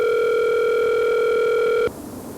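A telephone ringing on an outgoing call: one long, steady electronic ring tone holds loud and even for nearly two seconds, then cuts off abruptly into quiet line hiss.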